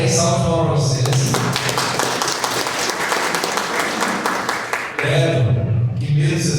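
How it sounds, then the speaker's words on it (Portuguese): A classroom of students gets a steady round of applause, dense clapping filling several seconds at close range, with a teacher's voice heard before and after. "salve de palmas para vocês"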